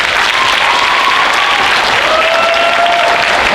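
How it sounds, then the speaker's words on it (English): Loud, dense applause from a high school spring concert audience cheering the student performers, continuous clapping with a thin whistle rising through it and no voices on top. "please give a round of applause to all of our performers for tonight"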